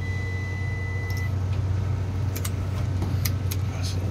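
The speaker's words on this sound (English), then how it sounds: "Get off continuity. I don't need you beeping at me." A multimeter gives a thin continuity beep for about a second while the compressor of a new Carrier package unit is being tested. The beep sits under a loud, constant machinery hum, with a few sharp clicks afterward.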